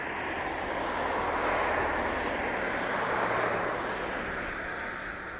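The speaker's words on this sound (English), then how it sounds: "The next aircraft is on the downwind." A distant aircraft engine drones steadily on the downwind leg of its approach at East Midlands Airport, swelling slightly in the middle and fading toward the end.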